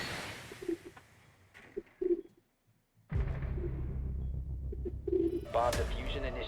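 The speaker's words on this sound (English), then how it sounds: "I can get a bird cam, so you can watch him walk around in circles and coo at me all day" A pet bird gives a few soft, low coos at spaced intervals, faint and close, mixed in with game sound effects and talk.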